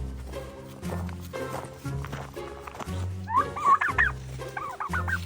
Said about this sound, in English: Olive, are you gonna help me herd the turkeys?